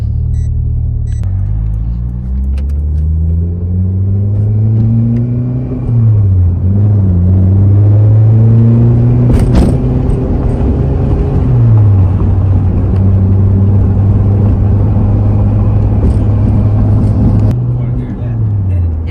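A boosted car engine with an adjusted boost controller pulls hard through the gears, its drone rising and dropping at each shift into fourth gear, loud and close inside the car, with excited voices over it.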